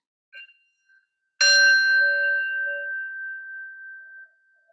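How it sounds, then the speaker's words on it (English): A single meditation bell is struck at the start of a gentle hatha yoga practice, giving one clear metallic strike with a bright ringing tone that decays slowly over about three seconds into silence. "taking the sound of the bell, following it to the end"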